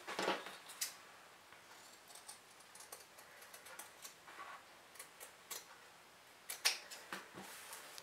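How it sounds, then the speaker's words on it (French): Scissors snip away excess fabric at the bottom corners of a handmade fabric pouch, a quiet, irregular series of close, crisp clicks and rustles with brief pauses between cuts and no talking. "je vais simplement découper l'excédent de tissu de chaque côté"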